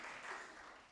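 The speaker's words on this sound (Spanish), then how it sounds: "dale fuertes palmas al Señor" A church congregation claps hands together in a broad, continuous wash of applause, fairly steady and dense over a short moment.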